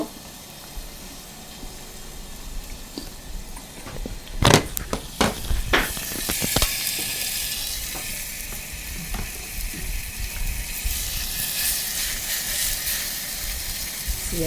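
Wagyu beef sizzles loudly on a smokeless Japanese yakiniku grill, a steady crackling hiss with sharp pops and spatters, close up and continuous.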